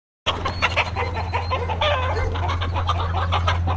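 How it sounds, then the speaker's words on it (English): Chickens cluck steadily in a backyard pen, a dense close chorus of overlapping clucks and murmurs that continues without pause, no voices present. "we lured the chickens back there with some feed"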